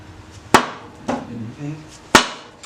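A hammer strikes a spacer block set on the piston of a 1977 Honda CT90 Trail motorcycle: three sharp metallic hits, close and loud, with quieter knocks between them.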